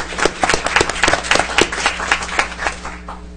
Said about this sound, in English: I think that should get a little round of applause, I think.